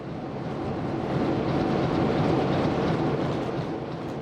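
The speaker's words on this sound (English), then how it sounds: "we see diesel locomotive number 890223, one of 27 members of Class 89 that still exist" A Class 89 diesel locomotive idles at Bacău station platform, a steady loud rumbling drone holding throughout with no talk.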